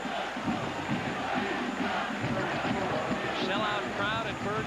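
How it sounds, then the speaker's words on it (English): A sellout crowd at Byrd Stadium, College Park, cheers on third down during a 1988 Maryland vs. Clemson college football game, a continuous roar of distant voices under a commentator's talk. "The crowd on its feet on third down and 4"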